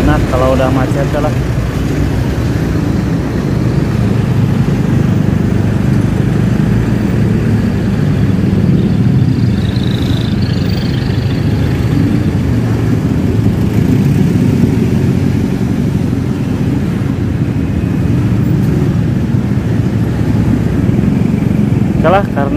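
Cars and motorcycles crawl through a traffic jam on Jalan Raya Cileunyi near Borma Cinunuk, beneath the Cisumdawu toll road, giving a steady, close drone of idling and revving engines that runs unbroken throughout.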